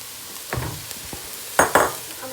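A beef and vegetable stew is stirred in a pot, with a few short scraping strokes and soft clinks over a faint background hiss, the two strongest strokes coming near the end.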